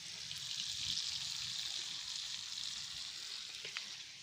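Chicken frying on a clay roof tile outdoors in Konkan, a steady close crackling sizzle holding level throughout, with a faint tap near the end.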